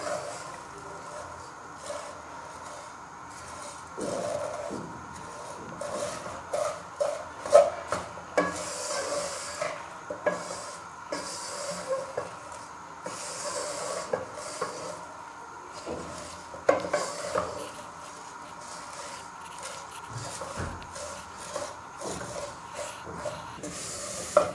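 Vermicelli roasts in a pan under constant stirring, a dry scraping and rustling with frequent light knocks of the spoon against the metal, moderately quiet and continuous.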